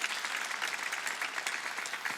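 A church congregation at a Sunday worship service claps together, a steady, even wash of applause from many hands with no speech over it.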